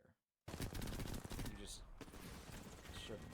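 Rapid automatic gunfire in Apex Legends plays close and loud, with dense repeated shots that run almost continuously after a short silence, while a voice talks over the shooting.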